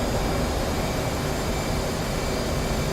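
Steady, dense jet engine roar from a fighter climbing out in DCS World flight simulator, broadband and constant at moderate level with no breaks.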